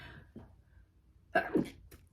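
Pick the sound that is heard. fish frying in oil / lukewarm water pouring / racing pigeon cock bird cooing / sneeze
sneeze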